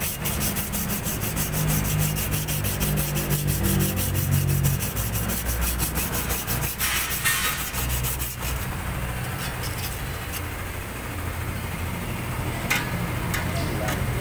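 Steady rapid rubbing and scraping of sandpaper against brake parts, a close, continuous gritty rasp with occasional knocks.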